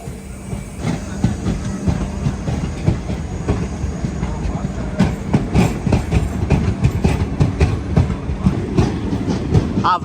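The Kochuveli–Shalimar AC Superfast Express starts to roll out of a busy station, with loud, close, rhythmic clickety-clack of wheels over rail joints, hiss and rumble, and crowd voices mixed in.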